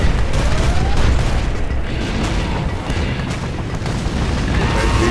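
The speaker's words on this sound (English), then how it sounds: "Just artillery right here. Lightweight artillery." Lightweight artillery firing in the video game C&C Generals (Contra X mod) during a battle against a USA general: a loud, continuous barrage of heavy booms and rumbling blasts filling the whole stretch.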